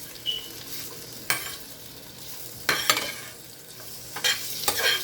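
Onions and carrot frying in a pan after green onion, a soft continuous sizzle broken by a few sharp scraping stirs at irregular intervals, heard close with no talking.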